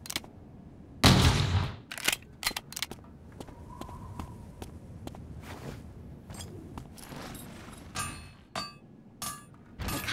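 A sniper rifle fires in a squad shooter game, one loud sharp report early on, followed by scattered clicks, footstep-like taps and smaller gunshot bursts at irregular intervals.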